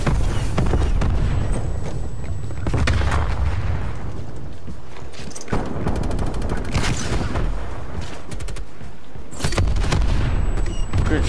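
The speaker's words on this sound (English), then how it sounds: "And I'm getting shot in the back." Sustained gunfire from the AMP 63 pistol in a fast-paced shooter video game, with repeated rapid bursts of shots and booms running almost continuously through the scene at loud, close range.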